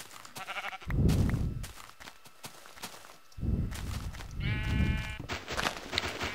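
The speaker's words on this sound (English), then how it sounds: "A sheep." Sheep bleat in the Minecraft world, several loud, wavering cries close by, mixed with footstep-like taps between them.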